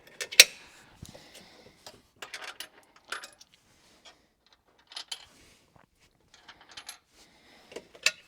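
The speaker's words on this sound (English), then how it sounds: "we'll put the standard washers and nuts back on" Small metal washers and nuts on a Suzuki Swift's WK Motorsports short shifter clink and tick in scattered, sparse bursts, with sharp metallic taps and brief rattles separated by quiet gaps.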